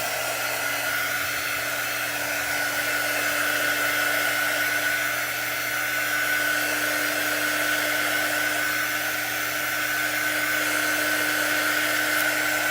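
A hair dryer blows steadily on a chalk craft project, a loud constant whirring hum with a stable whine running unbroken throughout.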